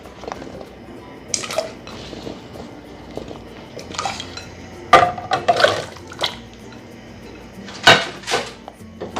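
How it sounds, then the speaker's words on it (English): Clattering of a metal lid being set on a pot of boiling potatoes, with a few sharp clinks and bumps over a low background of bubbling and kitchen noise. "I'm just gonna cover this and just leave them to boil like that."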